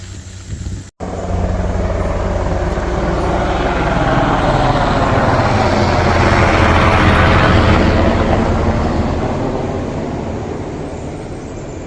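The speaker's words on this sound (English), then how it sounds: "Don't often see the helicopters fly like that over the river." A loud helicopter roar swells and passes overhead above a river near Harpers Ferry, rising to a peak midway and slowly fading, with a brief dropout near the start.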